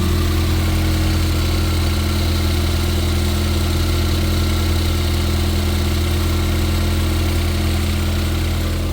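A 2015 Ford Fiesta ST engine idles steadily for the whole stretch, a loud, even low rumble with no talking.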